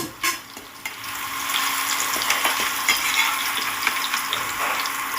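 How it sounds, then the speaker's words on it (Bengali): Potato pieces fry in a pan of hot oil, a steady bright sizzle running close and continuous throughout with a few light scraping knocks and no talking. "দেখুন আলুটা প্রায় ভাজা হয়ে গেছে লাল লাল করে ভেজে নিলাম"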